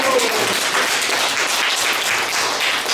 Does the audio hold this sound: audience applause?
yes